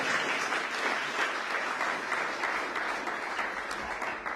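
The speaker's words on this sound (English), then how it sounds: "and it better get some applause." Steady applause from an audience at a San Francisco public briefing, a dense, continuous patter of many hands clapping, moderately distant and sustained throughout without a break.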